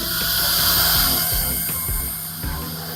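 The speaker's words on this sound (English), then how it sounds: "you have to drill the hole long enough for" A drill boring a hole in masonry for wedge-anchor screws, a loud continuous whine and grind with slight shifts in pitch.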